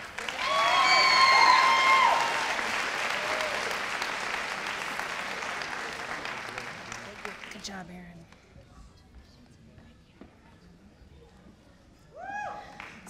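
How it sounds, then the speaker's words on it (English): A commencement audience applauds the graduating class with loud cheering and whistles over steady clapping that gradually thins and fades, followed by scattered claps and a voice speaking briefly near the end. "So do another round of applause for our graduates."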